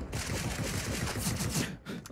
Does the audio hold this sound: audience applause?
no